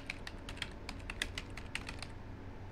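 Fast, quiet typing on a computer keyboard, a steady patter of light key clicks close by over faint background hiss, with no voices.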